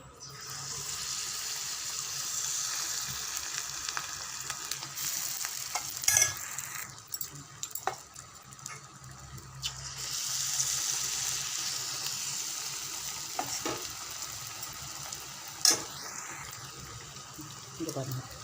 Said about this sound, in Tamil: போண்டா போடுறதுக்கு வானலில் எண்ணெய் விட்டுட்டேன்